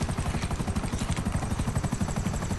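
Helicopter rotors thump in a fast, steady rhythm, loud and close, in the video game GTA Online, with no talk over them.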